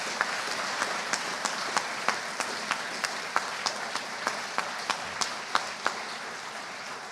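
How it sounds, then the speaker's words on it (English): Audience applause at a 4-H state awards ceremony in Arkansas, a steady wash of many hands clapping with sharp individual claps popping out, sustained and fairly even throughout with no talking over it. "Let's give them a round of applause for all they do for our organization."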